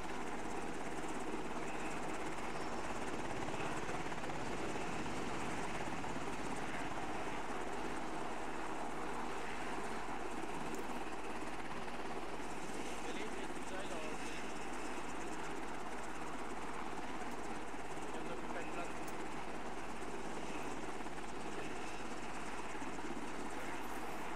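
A steady, broad rumble of helicopters overhead fills the whole stretch, fairly distant and even, with no talking.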